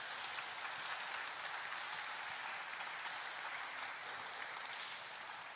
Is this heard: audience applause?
yes